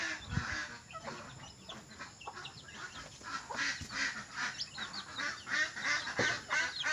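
Native chickens in a backyard flock give repeated clucks and squawky calls at close range, scattered throughout over a steady outdoor background with no talking.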